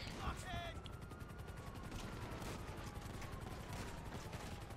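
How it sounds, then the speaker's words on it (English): Faint rapid gunfire in Red Dead Redemption 2 online play, a steady rattle of shots that runs throughout, quiet and distant, with light voices underneath. "Why are you trying to shoot me?"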